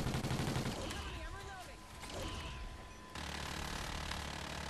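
Call of Duty: Ghosts Extinction Nightfall co-op gameplay with rapid bursts of in-game gunfire and booming effects, moderately loud, while players talk over the action.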